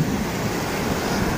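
Water flows through a small canal by the sea in a steady, unbroken rush, with a faint breath of wind over it.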